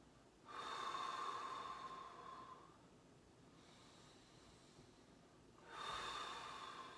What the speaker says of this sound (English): we're just going to do crocodile breathing with a very light head hold. So let's do 5 deep breaths here.